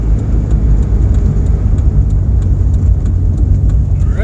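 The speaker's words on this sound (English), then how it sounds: "Driving a little further than I normally would for a test drive." A Jeep Cherokee XJ on a test drive around a neighborhood, its engine a steady, loud low drone with road rumble throughout, no voices.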